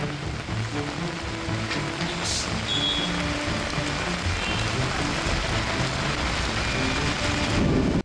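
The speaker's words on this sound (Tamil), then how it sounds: "தமிழகத்தின் பல மாவட்டங்களில் மழை பெய்து வருகிறது" Steady rain falling across Tamil Nadu during a heavy-rain spell, a dense continuous hiss of drops on surfaces with no pauses, moderately loud and with no voices.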